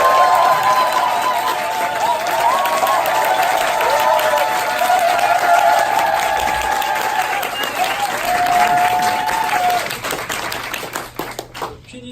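Audience at a leadership school event gives loud, sustained applause as a guest speaker is welcomed, with a tonal musical line running underneath and voices mixed in, the clapping thinning out toward the end.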